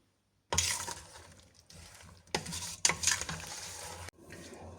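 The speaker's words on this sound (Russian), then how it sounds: "Клубника закипела, поднимается пенка." A pot of strawberry jam comes to a boil on a stove over medium heat. Loud bubbling and sizzling bursts in uneven surges, with brief clinks, close by and without voices.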